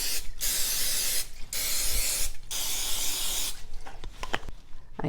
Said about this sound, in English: You need to spray these.